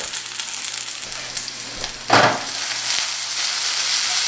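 Chopped onion fries in a pan for a red beans dish, with a steady, close hiss of sizzling and one louder crackling burst partway through, heard alone.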